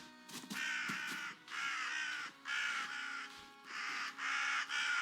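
Crows caw in dense, harsh bursts in a video game as a man is attacked by the flock; the loud, steady calls come in four or five long waves, close and with no talk.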